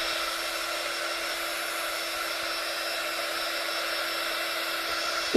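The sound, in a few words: heat gun drying paint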